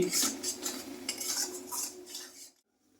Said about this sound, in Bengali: ফ্যাটানো দইটা দিয়ে বেশ নাড়তে হবে